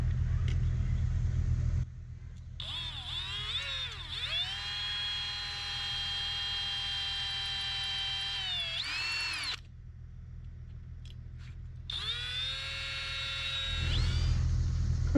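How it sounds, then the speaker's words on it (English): A drill bores into the brass pins of a hollow machete handle, giving a steady high whine for several seconds that dips as it loads, stops, then runs again briefly over a low background rumble. "the plan is to drill the heads off of these."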